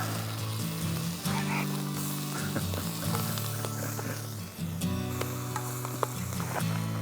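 Tomatoes sizzle steadily in a pan over an outdoor campfire while cooking breakfast, a continuous close frying hiss with small crackles and a few clanks of utensils throughout.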